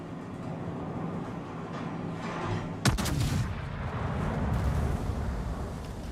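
Warship guns in World of Warships fire at the cruiser Omaha: one sharp, loud report cracks out after a steady engine-like rumble, followed by a thick, lingering roar.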